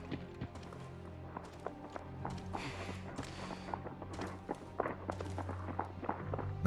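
Players' footsteps in a video game, moving from outdoors to indoors near a kick door, land as a quick irregular series of soft thuds and scuffs over a low steady hum.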